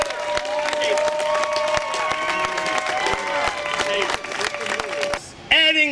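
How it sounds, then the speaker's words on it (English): Rally crowd at San Francisco City Hall applauds a mother and father, sustained clapping mixed with cheers and an outdoor public-address tone, breaking off near the end into a brief shout or voice. "Let's give this mother and father a round of applause."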